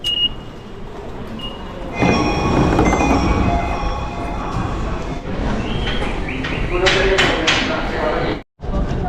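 A rumbling train ride to Akihabara, Tokyo, with a steady rattling roar and occasional clattering from the cars, loud and close throughout.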